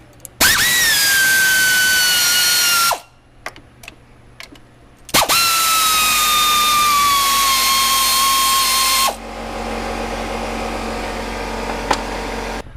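Power tool whirring loudly as 13mm bracket bolts come off a BMW E46 near the power steering reservoir: a long rising-then-steady drill whine, a pause with a few clicks, then a second long run trailing into a lower hum.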